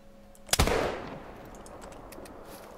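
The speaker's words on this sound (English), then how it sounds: "Don't know where that shot hit" A single loud rifle shot fired while hunting bison in theHunter: Call of the Wild, a sharp crack followed by a long echoing rumble that fades over about two seconds.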